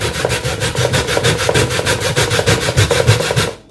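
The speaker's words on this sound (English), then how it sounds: "You take your cassava, hold it that way, and begin grating it." Raw cassava scraped by hand across a grater for a snack, a rapid, even rhythm of rasping strokes, about five per second, close and loud, stopping abruptly at the end.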